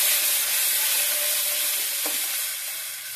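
Whole cumin, bay leaf and tomato sizzle in hot oil for a masoor dal and potato curry, a steady loud frying hiss with a brief stirring clink partway through.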